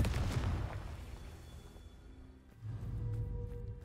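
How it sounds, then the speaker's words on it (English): Stones blasted apart by the Confringo spell during a Merlin Trial in Hogwarts Legacy, giving a loud booming burst at the start that fades, then a second rumbling blast with no talk. "This trial has large stones scattered around that can be blown up with Confringo."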